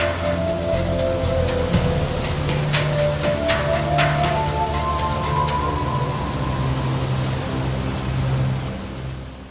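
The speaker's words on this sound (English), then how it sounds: "After a few days, the ship got caught in a bad storm." Storm at sea with heavy rain and surging waves around a sailing ship, a continuous loud wash with deep rolling rumble and scattered splashes, no voices.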